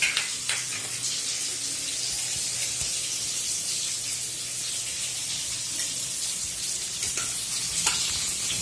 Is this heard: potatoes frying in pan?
yes